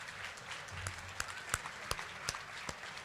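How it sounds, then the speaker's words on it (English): Audience applause at a televised anniversary event honoring four governors, a soft wash of clapping with sharper individual claps standing out, moderately distant and fairly quiet. "Please give them a big round of applause."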